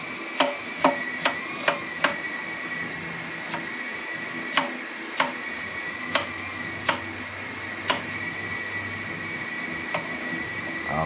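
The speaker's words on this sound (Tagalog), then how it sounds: "Ang sunod naman ating gayatin ay ang sibuyas." A knife slicing onion thinly on a board for a vegetable dish, sharp crisp chops in quick bursts at first, then spaced out more slowly, close and clear over light background hiss.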